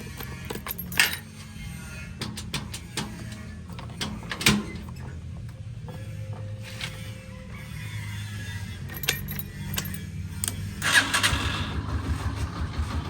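A vehicle engine starts and settles into a low idle to warm up, its hum running steadily under scattered sharp clicks and clanks.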